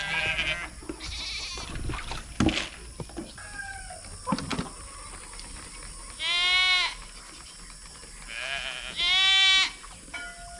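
Several sheep and goats bleat loudly at intervals, with two long, wavering calls standing out close by over a murmur of farmyard noise and scattered clanks.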